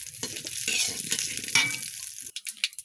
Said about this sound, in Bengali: এখন আমি এই সবজিটা দিয়ে দিলাম এখন নেড়ে নেব